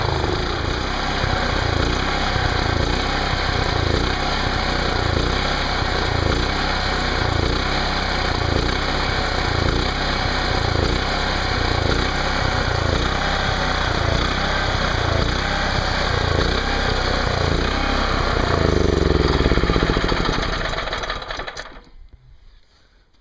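An Onan 2.8 kW generator engine runs steadily and loudly with a fast, even combustion rhythm, its air filter loosened, fed from a gas can, holding constant until it stops abruptly near the end, leaving silence.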